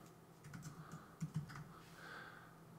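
Soft, quiet typing on a computer keyboard while entering text in Final Cut Pro X, a loose run of light keystrokes with a few sharper taps over a faint steady background hum.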